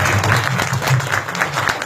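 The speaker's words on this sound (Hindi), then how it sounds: "मुझे ये अपेक्षा रहती है कि तालियां बजेंगी" A crowd claps steadily in brief, dense applause that stays at an even level throughout.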